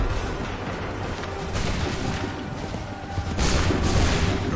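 Musket volleys ring out in Assassin's Creed III, loud rolling booms that swell twice over a constant battlefield roar.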